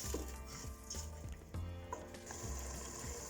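Turmeric and tomato are stirred in a cooking pot for a potato and aubergine curry, giving close, soft scraping and sloshing with a few light knocks of the spoon against the pot.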